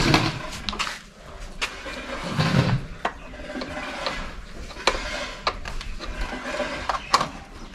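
A generator starting up on a farm with a fodder-cutting machine, heard as a clattering pull-start and ratcheting mechanical noises followed by an uneven engine sputter, close and fairly loud with no voices.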